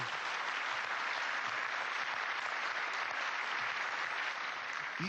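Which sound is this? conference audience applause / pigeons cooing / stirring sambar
conference audience applause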